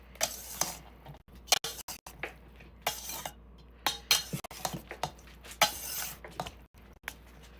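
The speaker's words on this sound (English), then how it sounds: "So I'm just going to cut some pats and then cut those up" A knife cuts pats of butter for Thanksgiving sourdough stuffing, making scattered close taps and clinks against a board or dish in an irregular rhythm, with brief quiet gaps between strokes.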